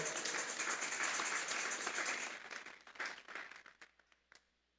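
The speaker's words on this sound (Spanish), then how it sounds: "Vamos a darle una ofrenda de palmas a Dios en esta hora." A church congregation claps together as an offering of praise to God: a loud, thick burst of applause that fades into a few scattered final claps before silence.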